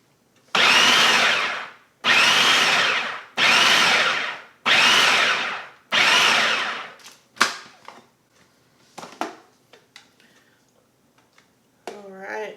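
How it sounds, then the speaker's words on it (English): Food processor pulsing fresh basil for pesto: five loud, evenly spaced whirring bursts of about a second each, then scattered clatter and brief faint talk. "we're going to add the basil, and we're just going to pulse until things are combined."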